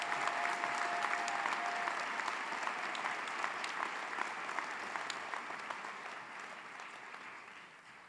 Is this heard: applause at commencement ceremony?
yes